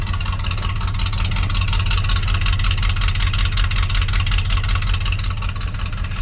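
A Ford high-boy truck engine idles after a cold start, a loud, close, steady low rumble with an even pulsing rhythm and no talking throughout.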